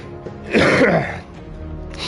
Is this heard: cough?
yes